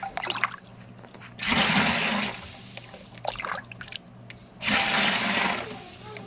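Water is scooped and poured into a small nano reef aquarium during cleaning, two loud rushing splashes separated by quieter dripping and trickling.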